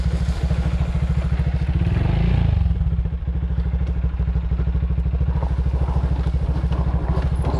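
A dirt bike rides along a dusty dirt trail on a ranch, its engine putting out a close, pulsing rumble with rhythmic firing. Chassis clatter and thumps from the rough ground run throughout.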